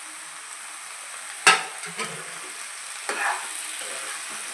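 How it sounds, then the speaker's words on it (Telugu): Eggplant frying with onions and dried shrimp, a quiet steady sizzle punctuated by a sharp metallic clank and a couple of softer utensil knocks against the pan. "ఉల్లిపాయలు బాగా ఫ్రై అయిపోయాయి ఇప్పుడు వంకాయలు వేసేసుకున్నాము"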